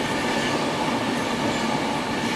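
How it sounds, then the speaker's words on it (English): A Class 390 Pendolino electric train rushes past near tunnels at South Hampstead, a steady, dense, loud wash of rail and wheel noise with no pauses or voices. "Oh, another Pendolino"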